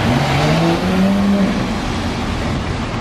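A Porsche Carrera GT engine drives past in the rain, a steady loud mechanical drone with a rising tonal whine in the first second and a half, close and continuous over wet road hiss.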